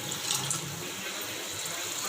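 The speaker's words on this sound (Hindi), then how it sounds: "हमने इसमें पानी डाल दिया है, अब इसको मिक्स करेंगे।" Water pours steadily into a pan of masala for shahi kofta, a broad, continuous splashing rush that stays loud and even throughout.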